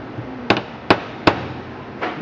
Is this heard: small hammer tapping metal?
yes